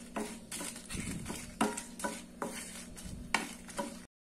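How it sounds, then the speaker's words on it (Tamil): Dried red chilies roast in a pan as a spoon scrapes and stirs them in repeated rhythmic strokes, with a light sizzle underneath, close up and without speech. "இதை வறுத்து எடுத்துக்கலாம் மிளகாய"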